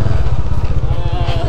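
A Bajaj Dominar 400 motorcycle engine runs loud and close during a winter ride from Delhi toward Spiti, giving a steady, rapid low throbbing pulse throughout.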